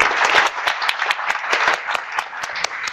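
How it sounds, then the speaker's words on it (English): An audience at a science event applauds steadily, a dense, even patter of many hands clapping, loud and sustained with no voices. "A huge round of applause for our testing lab scientists."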